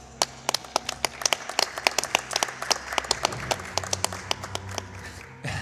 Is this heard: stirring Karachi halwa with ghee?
no